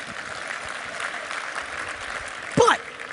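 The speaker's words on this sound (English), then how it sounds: "So clap yourselves up, it'll be fun." A keynote audience at an Inc 500 seminar claps for itself, a light, fairly distant patter of applause under room noise, with one sharp louder burst near the end.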